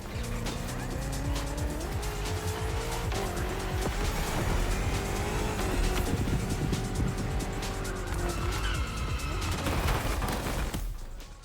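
BMW M CS competition cars race in The Crew: Motorfest, engines revving loudly and continuously with rising and falling gear pitch, tire squeal and skidding layered throughout before the roar cuts off at the end.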